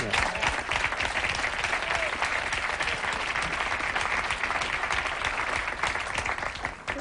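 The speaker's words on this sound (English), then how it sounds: "People are applauding the marathon volunteers?" A studio audience on a late-night talk show applauds marathon volunteers: a dense, continuous roar of clapping from many hands that holds steady for several seconds and eases slightly at the very end.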